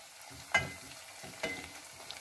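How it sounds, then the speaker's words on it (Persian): Thick homemade tomato paste fries in oil with golden onions, a soft, low sizzle punctuated by two sharper scraping stirs. "ربمون رو اضافه میکنیم و اجازه میدیم که تو روغن سرخ بشه"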